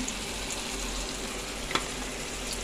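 Turmeric and chili powder frying in a pan for a Punjabi rajma dish give a soft, steady sizzle with a faint stirring scrape partway through, close and quiet with no voices.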